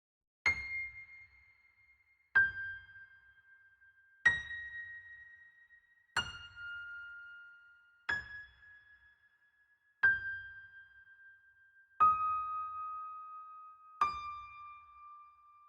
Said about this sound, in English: And then we have the angelic piano.